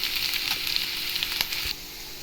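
Carrots and beans for semiya kichadi sauté in a hot pan, giving an even, close sizzle with a few faint stirring taps before the sound drops lower at the end.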